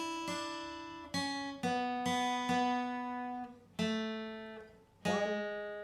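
Slide guitar picking out a song's melody line: single sustained, ringing notes struck one after another at a slow, even pace, each decaying before the next, played alone and up close.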